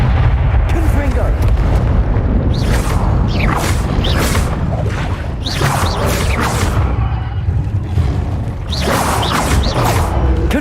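Fiery spell blasts in Hogwarts Legacy, a loud, dense run of repeated booming bursts over constant combat noise, with a voice calling out spell names throughout.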